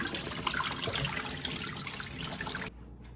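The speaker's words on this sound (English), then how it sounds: "I'm gonna rinse these a couple of times just to get any dirt and debris off of them." Fiddleheads are rinsed under running water, a close, steady splashing stream that stops abruptly near the end.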